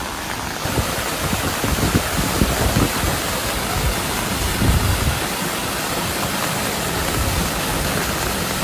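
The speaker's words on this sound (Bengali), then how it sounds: "দেখুন কি স্পিডে জল নামছে এখনো।" Rainwater rushes fast down farmland after heavy rain, washing soil away toward a river; a loud, steady broadband roar of flowing water continues without pause and without voices.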